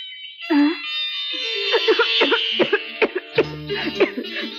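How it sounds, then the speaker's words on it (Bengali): A string of harsh, repeated coughs, close and fairly loud, coming in uneven bursts with short breaths between them. "তোমারও তো কাশি হয়েছে"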